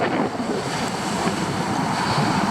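Ocean surf rolling and breaking on a cold sea, a steady dense wash of crashing water with wind buffeting the microphone throughout, no pauses.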